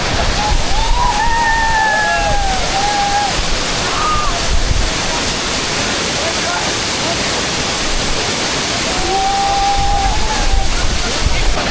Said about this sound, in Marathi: एवढे हिडन वॉटरफॉल आहेत आपल्या कुंभारलीमध्ये त्याचा एक छोटासा तुम्ही अनुभव घ्या